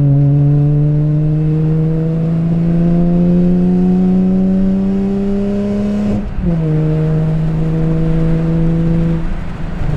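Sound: BMW E46 M3 engine revving with headers

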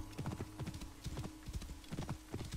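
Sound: horse hooves clip-clop, from video game Assassin's Creed Origins

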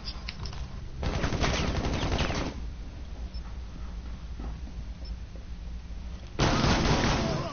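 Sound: shotgun fire in Rainbow Six Siege video game

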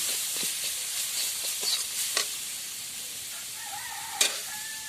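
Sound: stirring chilli powder and roasted spices in a frying pan

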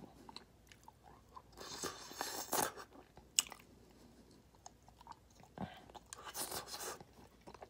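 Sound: chewing food during a mukbang

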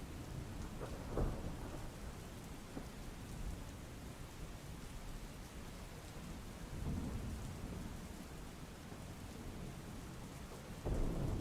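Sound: heavy rain

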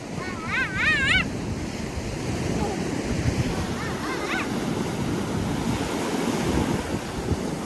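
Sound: ocean waves breaking on shore

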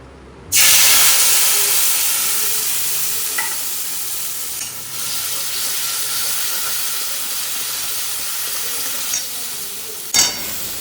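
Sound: spice paste poured into hot oil, sizzling

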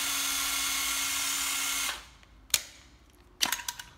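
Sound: old Japanese 9.6V cordless drill running

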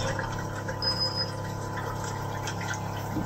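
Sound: water still running from a water ionizer after the source is turned off

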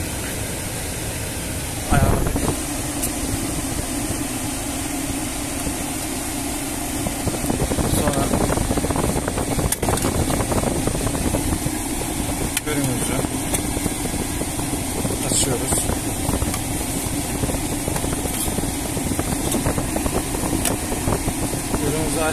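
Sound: car air conditioning running

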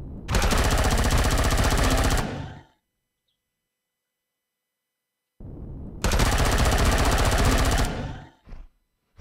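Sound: gunfire from Empyrion Galactic Survival video game

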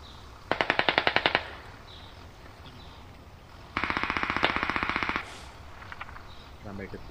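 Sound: machine gun fire in the video game Squad

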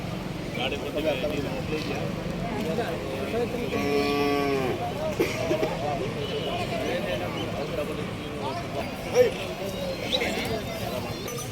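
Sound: Hallikar cattle calves mooing

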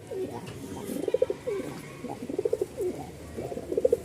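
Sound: male tumbler-cross pigeon cooing

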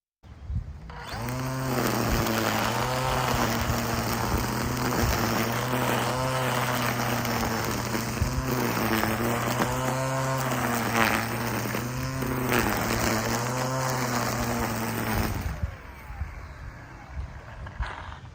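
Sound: Makita DUR193 cordless string trimmer cutting grass

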